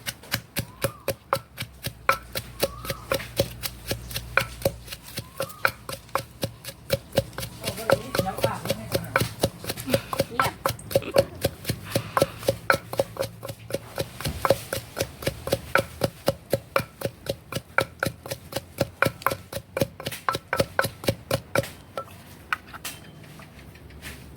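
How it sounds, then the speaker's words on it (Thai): Chilies are pounded in a mortar for a Lao tomato jaew dip, with a steady, rapid series of close wooden thuds that keeps going for about twenty seconds. "ใส่พริกลงไป ตำก่อน"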